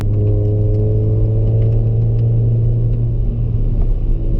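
A Volkswagen Golf 7 GTI turbo engine rumbles loudly and steadily from inside the car, a deep, droning motor tone holding an even pitch throughout without voices.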